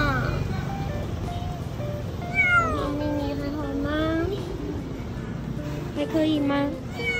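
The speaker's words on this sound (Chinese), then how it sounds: "小猫咪叫了一整趟。" A three-month-old kitten meows repeatedly during a car ride to its vaccination, rising plaintive cries over engine rumble and road noise.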